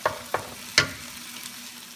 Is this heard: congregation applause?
no